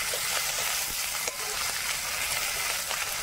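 Cumin, coriander, dried red chilli and spice paste sizzle and fry steadily in a hot pan for a chicken dish with mahua fruit, a dense, continuous crackle with occasional stirring scrapes and no talking.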